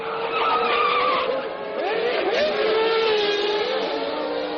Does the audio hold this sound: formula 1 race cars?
yes